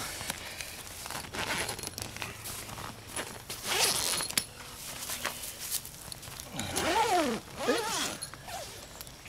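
The heavy-duty door zipper of a Gazelle T4 tent is pulled open in several drawn-out rasping strokes, close up, amid rustling fabric and shuffling movement.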